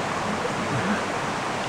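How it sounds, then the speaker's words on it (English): Water rushing and falling over rocks in steady rapids, a constant broadband roar close by with no pauses and no voices. "the water is falling off of the rocks"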